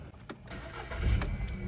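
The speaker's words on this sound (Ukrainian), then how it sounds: "Автомобіль завівся з півтику, ніяких помилок немає." A 2004 Volkswagen Touran with a 1.6 MPI petrol engine starting up, a brief crank followed by the motor catching and settling into a steady, close-up rumble with no voices.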